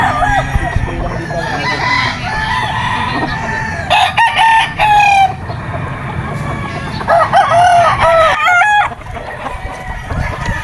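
A yellow-legged sweater gamefowl rooster with a pea comb crows loudly and close by, giving two long, strained calls in succession over a steady backdrop of farmyard noise.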